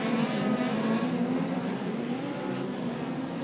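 A Toyota-powered midget speedcar races around Archerfield Speedway among other cars, engine droning in a sustained, slightly wavering whine at moderate distance, fairly faint under crowd and track ambience.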